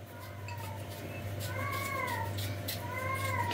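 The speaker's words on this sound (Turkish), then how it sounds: "Kediler miyavlıyor." Several cats meow in a home kitchen, their calls rising and falling in clear overlapping cries over a steady low hum, with no voices.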